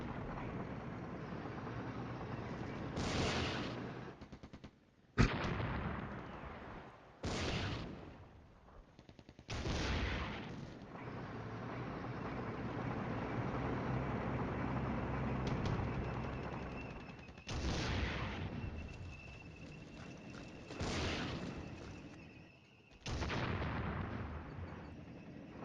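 Artillery fire in the Flashpoint Campaigns Southern Storm tank wargame: several loud booming blasts land in uneven bursts, each rolling out over a steady low battle rumble, with no talk.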